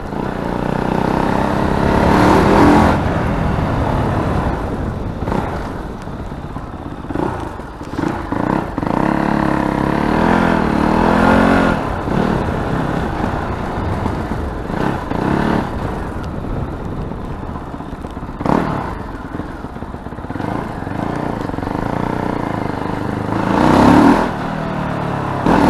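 A Fantic Caballero Scrambler 500 motorcycle accelerates hard in first gear, its engine rising and falling through repeated revs with wind rush, loud and close over about twenty-five seconds.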